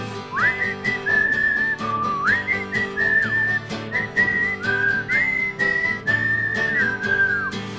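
A person whistles a cheerful melody of short rising and falling phrases, clear and close, with no talking.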